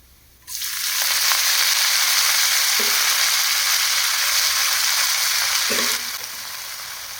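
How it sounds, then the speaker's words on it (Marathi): Finely chopped fenugreek leaves drop into a garlic tempering over low heat, setting off a loud, steady broadband sizzle that holds for several seconds, with a couple of faint utensil scrapes, then eases slightly near the end. "लसणाच्या फोडणीतच मेथी छान परतून घ्यायची"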